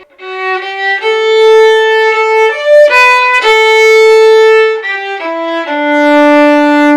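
A solo violin plays a melody with each note bowed separately, clear distinct strokes, loud and close, no talking.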